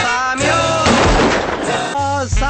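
Gunshots ring out during a college trip in Munnar, a loud broadband burst of firing between stretches of people talking close by.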